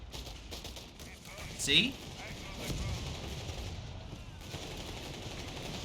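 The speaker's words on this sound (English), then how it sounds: "We got some artillery coming in." Artillery fire in the WWII strategy game Company of Heroes 3, a 4v4 match on the Black Gold map, with a sharp shell burst followed by a rumbling barrage of distant gunfire as someone talks briefly.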